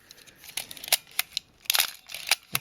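A Nikon FG film camera fires its shutter several times. Each release gives a crisp mechanical snap that ends in a brief zipping whir, and the clicks sound close and dry in a quiet room.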